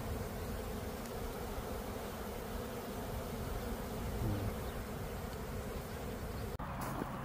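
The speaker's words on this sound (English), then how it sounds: "it looks like we got bees flying into both sides at 7 p.m. on Sunday, capturing the swarm" A dense, steady hum of a honeybee swarm flying and fanning nearby in a garden apiary, continuous and unbroken, with a small knock near the end.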